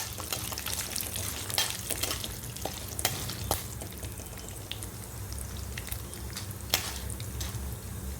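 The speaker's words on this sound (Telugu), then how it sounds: "అది బాగా వేగి ఆవాలు చిటపట్లు ఆడాక" Mustard seeds and asafoetida splutter in hot oil for poori bhaji, a dense sizzle dotted with sharp crackling pops throughout, with no voices.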